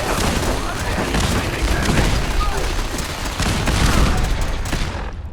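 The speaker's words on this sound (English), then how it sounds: "that machine gun is actually aggressive towards me, so we need to be careful." A machine gun turret fires in Fallout 4, with dense, continuous rattling bursts and booming impacts filling the scene at close, loud range without pause.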